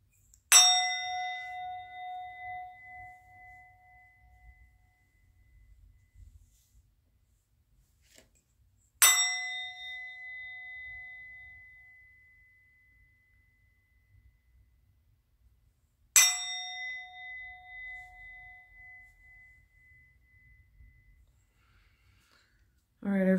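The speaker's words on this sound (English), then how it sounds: "I'm going to ring a bell." A bell rung by hand, three clear resonant strikes spaced several seconds apart, each ringing out and slowly fading into near silence.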